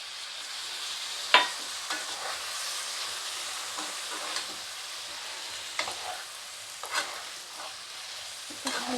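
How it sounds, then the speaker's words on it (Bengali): A jackfruit-potato curry with peanut paste is stirred in a pan, giving a soft, continuous low sizzle with scattered spoon scrapes and clinks, including one sharp knock early on. "ভালো করে নাড়াচাড়া করলাম"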